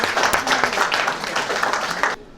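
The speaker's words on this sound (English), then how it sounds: "Let's give them a big round of applause." An audience at a school quiz bursts into lively applause, many hands clapping loudly and steadily for about two seconds before stopping abruptly.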